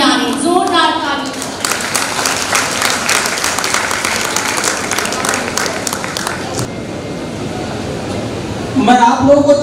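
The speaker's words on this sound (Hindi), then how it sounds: "जोरदार ताली" Loud, sustained applause fills an International Youth Day event hall, a dense wash of clapping from a large audience that runs for several seconds before fading out, with a voice returning at the end.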